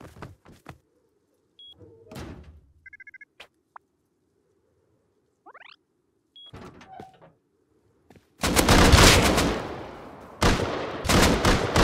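Bursts of gunfire in the survival game Rust, a few sharp scattered shots early on, then a dense, loud volley of rapid firing in the last few seconds with no talking.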